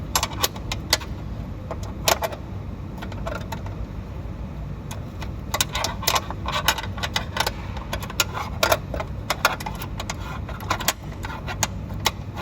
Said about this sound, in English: So now we are using the wrench to loosen the joint.